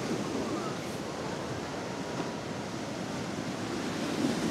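Ocean waves wash in along the Blackpool seafront, a continuous broad roar of surf mixed with wind buffeting the microphone, steady and fairly loud with no speech audible.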